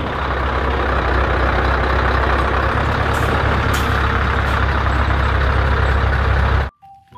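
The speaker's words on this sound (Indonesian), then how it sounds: "Dan yang terakhir, mobil truk kontainer panjang." A long container truck rumbles with a loud, steady engine drone for nearly seven seconds before cutting off abruptly, followed by a faint short tone.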